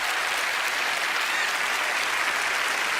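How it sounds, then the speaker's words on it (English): A studio audience at Penn & Teller: Fool Us applauds a contestant, a dense, even wash of clapping that holds steady from start to finish. "let's give him a big round of applause"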